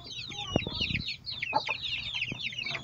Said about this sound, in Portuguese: Vou lá mostrar os pintinhos novos.